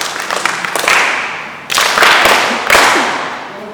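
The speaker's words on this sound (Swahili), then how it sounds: "Sawa, mpigieni makofi." An audience at a church gathering led by a Capuchin bishop breaks into loud applause in three rising waves of clapping, close and full, with no talking over it.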